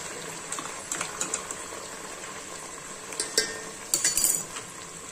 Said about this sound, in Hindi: अब इसमें शामिल करूंगी मैं अदरक लहसुन का पेस्ट।